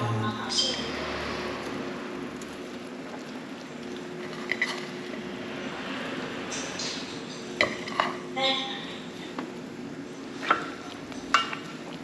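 Broccoli stir-fried in oil in a pan, a steady low sizzle with scattered utensil scrapes and clinks toward the end, and voices talking at times.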